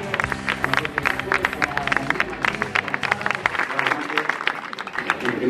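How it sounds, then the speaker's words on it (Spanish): At the team presentation of the C.D. Unión Isora youth football club, a crowd applauds the players with scattered, uneven clapping that runs steadily throughout, with voices in the background. "Un fuerte aplauso para Josué, para Damián, para Marilla, para Alberto"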